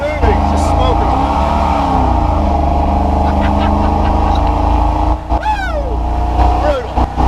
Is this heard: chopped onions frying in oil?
no